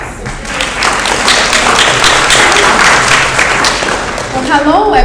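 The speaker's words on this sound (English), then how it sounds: "Let's give her a round of applause." Audience applause at a town hall meeting, a steady roar of many hands clapping that holds for several seconds before a voice begins speaking at the end.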